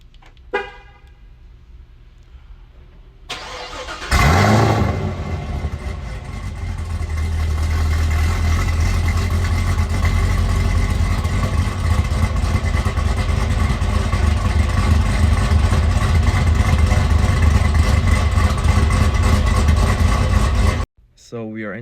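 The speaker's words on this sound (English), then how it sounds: "So let's just start with a cold start," A Chevrolet Camaro ZL1 sports car fires up from cold with a sudden loud burst, then settles into a steady, rumbling idle that stays strong and close until it cuts off near the end.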